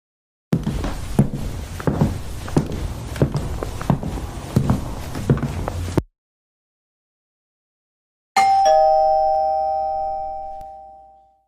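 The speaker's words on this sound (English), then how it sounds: "then ring the doorbell" Animated doorbell chime rings out alone after a stretch of footsteps and silence, a single clear tone that fades away slowly.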